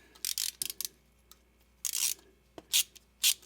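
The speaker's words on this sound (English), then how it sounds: "and cut threads into that outer sheath right there." An 11 mm socket twists to cut threads into the plastic outer sheath of a cable, giving several short, close scraping and rasping bursts separated by brief pauses.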